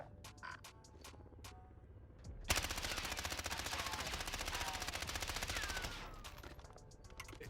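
An ISO SMG in Warzone fires one long sustained automatic burst of rapid, evenly spaced shots, with a few scattered single shots and clicks before and after.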